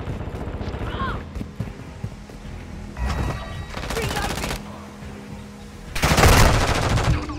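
Bursts of automatic gunfire in Call of Duty Modern Warfare come in uneven rattling volleys, the loudest near the end, mixed with mechanical clatter and background battle noise.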